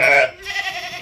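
A lamb at a sheepfold gives a single loud, close bleat, followed by quieter farmyard background noise.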